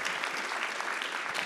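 Brief burst of audience applause at a land recycling conference closing keynote, a dense, even wash of many hands clapping, steady and moderately loud throughout with no voices.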